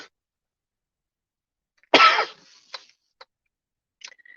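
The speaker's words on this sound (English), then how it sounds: "still has this bad cough" A single harsh cough bursts out close by, then trails into a few short, fainter throat sounds and small clicks in an otherwise quiet room, from someone with a persistent bad cough.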